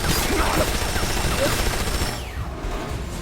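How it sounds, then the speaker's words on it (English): Heavy cannon fire from a Metal Gear Solid battle scene, a loud dense barrage of repeated blasts and crashing impacts that rolls on for a few seconds before thinning out. "Few have ever escaped my cannon."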